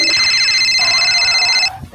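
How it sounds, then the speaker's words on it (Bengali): A mobile phone rings with a bright electronic ringtone, steady and fairly loud for under two seconds before cutting off abruptly. "সুমন স্যারই ফোন করেছে।"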